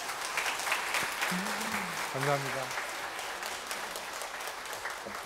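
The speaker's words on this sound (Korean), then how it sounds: "3부 분들이 박수를 쳐주시네요" Congregation applause in a church during a Sunday sermon, a soft, steady patter of clapping heard at a distance while someone speaks briefly over it.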